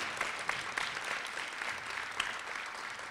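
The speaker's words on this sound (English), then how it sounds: "Please join me in giving them a round of applause for their support." Steady applause from a spelling bee audience honoring the event's sponsors, including the county public libraries, a dense wash of clapping with a few sharper claps, moderately distant and continuous.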